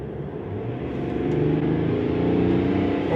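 A 2021 Mercedes-AMG E400 with an inline six-cylinder engine accelerates, its mid-pitched engine note building steadily and growing louder over a few seconds, heard from inside the car with no talking.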